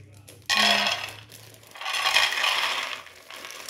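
Peanuts poured into a cooking pan in a home kitchen, a quick rattling clatter that bursts in, fades, then returns in a second longer pour, fairly quiet and close.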